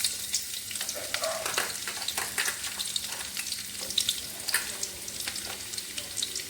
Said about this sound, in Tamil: எண்ணெய் நல்லா கொதிச்சதுக்கப்புறம் வரமிளகா, இஞ்சி பூண்டு சின்னதாக கட் பண்ணி வச்சது,